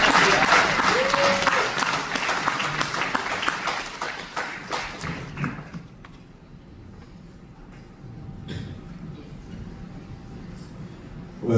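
Wedding guests clap together for about five seconds, a dense burst of applause with some voices mixed in, then it fades to a quiet room with faint scattered sounds.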